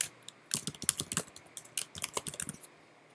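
Rapid typing on a computer keyboard, a close series of crisp key clicks in irregular bursts with brief pauses between them and no voices.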